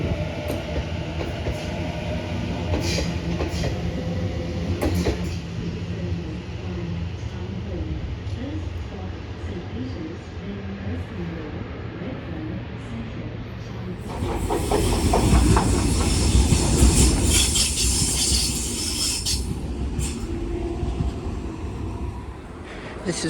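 A B8 electric passenger train pulling out of a Sydney station platform during upgrade works, with a steady rumbling drone and hiss that swells noticeably partway through as the train gathers speed nearby.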